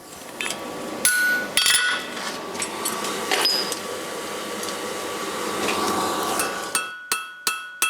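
A blacksmith's hammer strikes a steel bar being forged into a round section. Scattered ringing metallic blows land early on, then a quick run of sharp, evenly spaced hits closes the passage.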